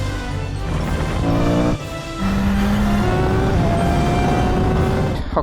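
A motorcycle rides on new tires, its engine revving up and shifting through gears with rising and falling tones, loud and close from start to finish.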